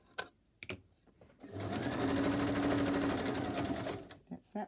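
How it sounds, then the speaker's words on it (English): A sewing machine runs steadily for about three seconds, stitching around the edge of a pocket made from old book pages, with quieter clicks and handling before and after. "I'm going to stitch around here, and I'm going to stitch around the edge"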